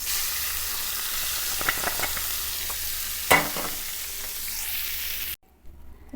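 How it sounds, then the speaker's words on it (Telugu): Tempering of turmeric and curry leaves stirred into Guntur-style gongura chutney in a pan gives a steady broadband sizzle with a few scraping clinks, ending abruptly near the close. "ఇప్పుడు ఈ తాలింపు ఇందులో వేసేసుకున్నామండి."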